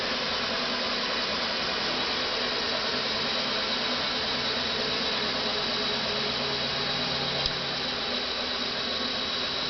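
An electric motor with newly seated brushes runs nonstop in a loud, even roar with a high steady whine, and a slight shift in tone comes late in the run.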